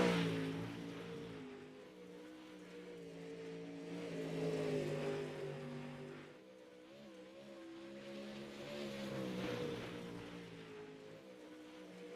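Pro late model race cars roar out of turn four at the start of a green-flag lap, engines droning in a steady rising pitch that swells and fades twice as they pass at a moderate distance.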